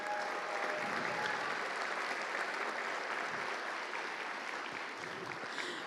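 Steady applause from an audience at an awards ceremony held at a miniatures painting convention, dense and continuous clapping filling the room with no speech over it.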